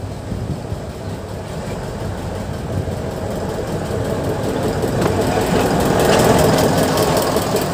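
A small Thomas and Friends toy train rumbles and clatters steadily as it approaches, its rhythmic mechanical whir growing gradually louder nearby.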